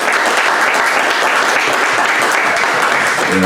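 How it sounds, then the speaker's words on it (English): Audience at a morning commemorative gathering in Schömerich applauding the organisers, loud sustained clapping with individual claps distinct throughout, alone without speech. "maybe we give a little bit of applause to all the responsible"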